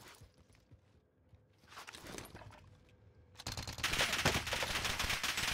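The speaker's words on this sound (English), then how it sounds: "Oh, he's sniping me up here in prison." Video game gunfire from a sniper in a prison area: scattered faint shots and footsteps at first, then a dense, loud burst of rapid automatic fire that continues to the end.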